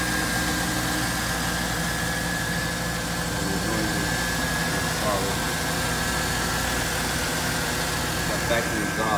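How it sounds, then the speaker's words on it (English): A 1999 Mazda RX-7's rotary engine idles evenly after a cold start with factory exhaust, a continuous low drone with a faint whine on top and no revving. "just start it up, cold start"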